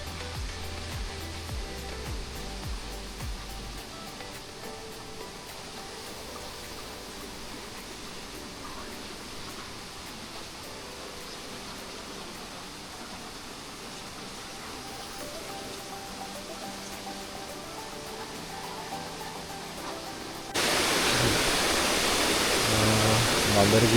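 Rushing water at Bambarakiri waterfall, a broad steady roar of falling water that carries throughout and swells abruptly louder near the end.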